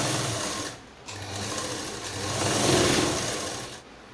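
Sewing machine stitching layers of lehenga fabric, a close, continuous whirring run that briefly pauses twice and swells louder toward the middle.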